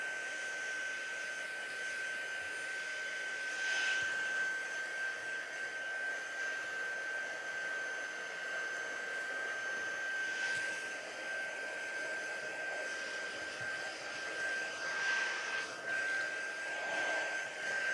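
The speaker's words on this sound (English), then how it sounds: "We can use our heat tool on these guys. Just a quick dry up." A handheld heat tool blows steadily to dry embossing powder on a craft stamp, a continuous fan hum with a faint whining tone, at moderate level throughout with no talking.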